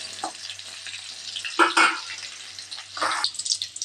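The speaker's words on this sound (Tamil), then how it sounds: "வெங்காயம் நல்லா வதங்கிடுச்சு" Small onions and crushed garlic sauté in a pan, with bursts of stirring and hissing sizzle rising and falling over a few seconds, close and fairly quiet.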